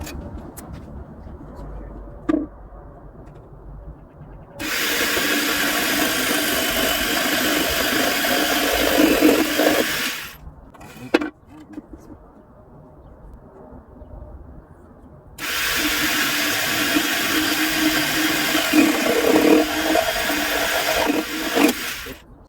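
A jigsaw cuts wood for a DIY dresser inside a box van, two loud sustained bursts of buzzing sawing, each several seconds long, separated by quieter handling and thumps.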